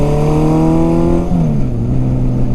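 A Honda CB750 motorcycle's four-carburetor inline engine revs loud and close, holding a steady smooth tone before the pitch drops and settles to a lower drone, with no talking.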